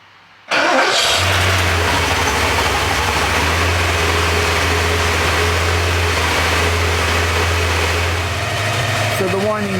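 A Porsche 928 V8 engine cranks, catches and settles into a steady, loud idle with a persistent mechanical whine riding above the engine drone, running close by for nearly ten seconds.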